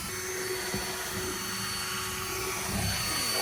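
A power drill boring a hole into the body of an RV during a cargo box installation, a steady whirring drone running throughout at close range with no talking.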